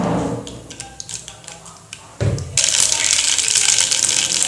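Hot oil crackles and sputters loudly after a brief thump, a dense continuous sizzle of mustard seeds popping close by.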